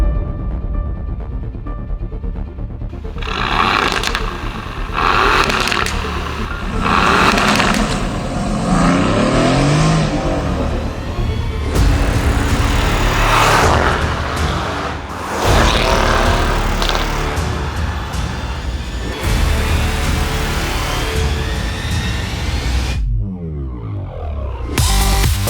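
An Aston Martin Vantage supercar drives with a loud engine that rises and falls in pitch as it revs and shifts through the gears, heard continuously from close by with no talk.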